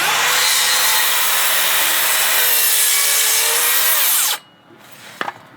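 A power saw cuts through wood in a steady, loud, continuous whine for about four seconds, then the blade winds down and stops, followed by a couple of faint knocks.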